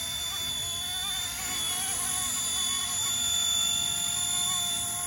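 An RC Era MD500 scale model helicopter hovers steadily nearby, its high-pitched motor whine and rotor buzz continuous and loud.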